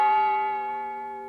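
A single bell sound effect rings out alone with a bright metallic strike, then a sustained tonal hum that slowly decays over about a second.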